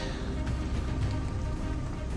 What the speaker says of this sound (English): the closer we get to the entrance, the harder it rains